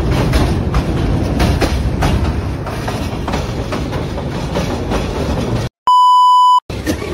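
A passenger train running from Cox's Bazar to Sylhet rumbles and clatters steadily and loudly from inside the carriage, cut near the end by a sharp, steady electronic beep tone before the rumble resumes.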